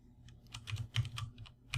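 Short bursts of computer keyboard typing, soft and close, as a line of Java code is entered, with uneven keystrokes and a few louder clicks over a quiet background.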